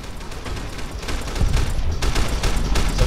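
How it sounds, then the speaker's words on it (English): Dense gunfire from the video game Fallout: New Vegas, a continuous fusillade of overlapping shots and bursts that grows louder and heavier partway through, with no talking over it. "I hear more gunshots,"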